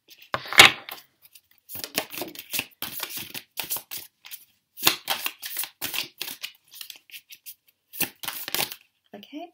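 A deck of tarot cards is shuffled in bursts of crisp riffling and sliding card noise, close and fairly quiet, with short pauses between handfuls.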